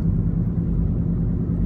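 Steady low road rumble of a car from inside the cabin while riding along, a continuous, even engine and tire drone with no talk.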